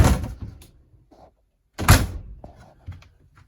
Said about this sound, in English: I'm just going to close the door, seal up some of the shop noise.